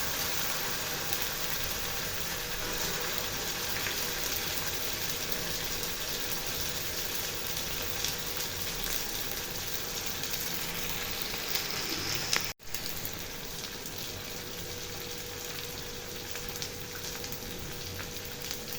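Beef brain sizzles and fries steadily in a hot pan, a soft continuous crackle with a brief break near the end, no talking.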